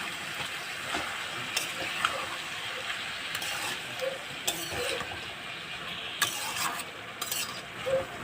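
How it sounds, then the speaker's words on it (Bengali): Green chilies and banana flower sautéed in a pan for a Bengali mochar ghonto, giving a steady low sizzle with intermittent scraping stir strokes, fairly faint and with no talking. "ভালো করে কষিয়ে নিয়েছি।"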